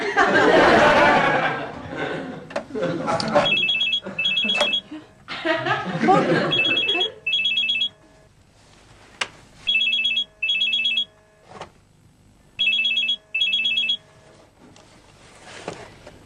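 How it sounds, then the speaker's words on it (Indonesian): A mobile phone ringtone rings from a bedroom in short repeated bursts of bright electronic melody, spaced by brief gaps, while people talk and chuckle over the first part. "Itu suara handphone siapa, Bu, di kamar?"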